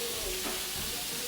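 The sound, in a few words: bacon sizzling in a pan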